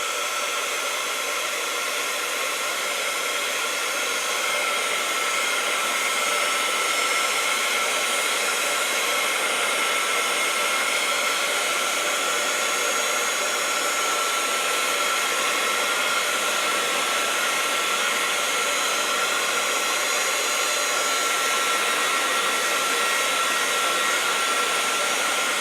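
A hair dryer blowing on craft paper, a loud, steady whooshing roar that runs unbroken for the whole stretch, close by and with no talking.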